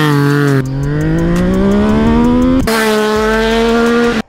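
A 450 supermoto motorcycle engine revs hard and close, its loud throaty drone climbing in pitch, cutting off sharply, then rising again before a sudden drop at the end.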